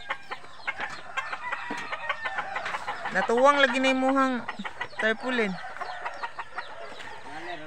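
Chickens on a Filipino homestead cluck steadily and loudly, with a rooster crowing in long drawn-out calls midway, while a person talks over the birds.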